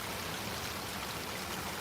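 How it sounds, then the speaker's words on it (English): Water from a 2-inch pipe pours out between two rocks into a garden pond, a steady, close, broadband rushing splash with no pauses and no voices. "we have a 2-inch line that's just pushing the water through"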